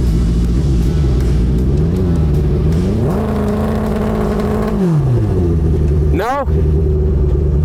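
A street-legal land speed motorcycle revs during a burnout, its engine note climbing, holding high for a couple of seconds, then dropping back to a loud idle and rising briefly again; a voice speaks over it.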